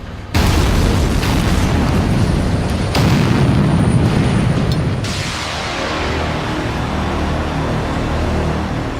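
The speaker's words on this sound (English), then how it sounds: "they have to be dug out the old-fashioned way, by drilling and blasting." A rock blast goes off while a tunnel is being dug, a sudden loud deep boom followed by a long rumbling roar that keeps going and slowly settles into a steady low noise.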